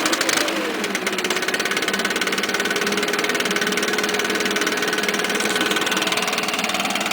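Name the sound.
string trimmer's 4-mix engine running after choke and priming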